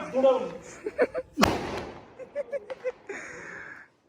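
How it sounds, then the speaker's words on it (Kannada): A single sharp bang from the last firecracker bursts out at a Diwali celebration amid excited talking and laughter nearby. "ಲಾಸ್ಟ್ ಪಟಾಕಿ ಒಂದೇ ಒಂದಿದೆ, ಲಕ್ಷ್ಮಿ ಪಟಾಕಿ"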